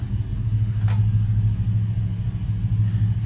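A 2006 Chrysler 300C with a large suitcase muffler, giving a steady low exhaust rumble at idle with a brief faint click partway through.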